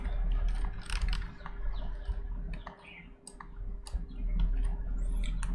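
Quiet typing on a computer keyboard, soft irregular key clicks in short bursts over a steady low hum, with no talk.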